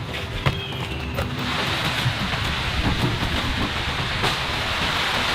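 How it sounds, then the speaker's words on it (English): Heavy rain pours onto the rainforest canopy in the Amazon at night, a dense, steady hiss that holds at an even level throughout, with scattered louder drips and patters. "there's always a pretty big delay between when the rain starts and when it starts coming through the canopy"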